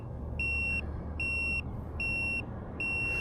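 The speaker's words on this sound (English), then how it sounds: "Now you can turn that beep off." A high electronic warning beep from a Velotric Nomad 2X e-bike repeats four times in an even rhythm, each tone about half a second long, over steady traffic and road noise.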